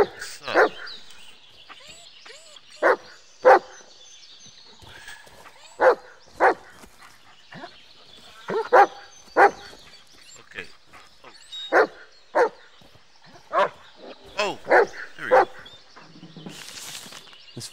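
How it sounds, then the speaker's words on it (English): A dog barks in the Blair Witch horror video game, sharp barks and yips recurring in irregular bursts over a quiet background, with occasional game dialogue between them. "What are you barking at?"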